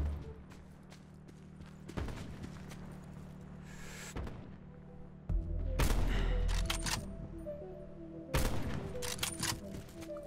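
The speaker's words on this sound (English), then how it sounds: "I wish one of those shots had hit." Sniper rifle shots in the Black Ops 4 Blackout battle royale game, sharp loud cracks at about 2, 4, 5.5 and 8.5 seconds, each followed by a short ringing tail over low ambient game noise.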